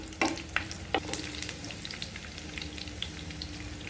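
Garlic fries in hot oil for an okra and spring onion stir-fry, a close, steady crackling sizzle with a few sharp clinks of a utensil near the start.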